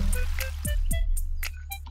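Cartoonish watering sounds from the farming video game Ooblets: a short burst of bright, bubbly droplet plops and descending blips over a steady musical background, close and moderately loud, with no talking.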